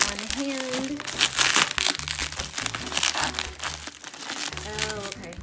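Plastic-wrapped package torn open by hand at a table, loud crinkling and crackling plastic in irregular bursts, with a person talking alongside.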